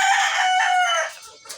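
A rooster crows among backyard laying hens in cold, rainy weather, one loud, sustained cock-a-doodle-doo held for about a second and then trailing off, with a brief faint cluck at the end.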